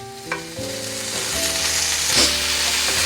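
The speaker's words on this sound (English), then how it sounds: "My sausage is browning." Sausage for gumbo browning in a pan: a steady, loud sizzle and crackle of frying that continues throughout, with a faint hum of background tones. No talking.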